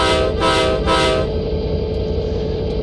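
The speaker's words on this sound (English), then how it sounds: "if you want to let people know that you're going backward, you honk 3 times." Three loud, sustained horn blasts from a GP40-2 or SD40-2 locomotive in a video game, signalling reverse, in quick succession, then a steady rumbling engine drone continues alone.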